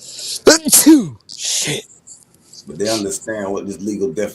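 A single sharp sneeze bursts out near the start, followed by quieter breathy sounds and then someone talking.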